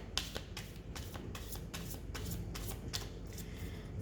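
A deck of tarot cards is shuffled by hand, a soft, close riffling and sliding in repeated quick bursts over a low steady background.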